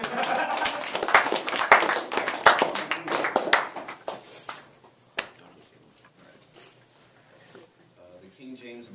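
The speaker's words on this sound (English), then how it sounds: "Everyone clap." Classroom audience clapping for a few seconds, a burst of dense uneven claps that quickly thins to scattered faint taps, with talk mixed in near the start.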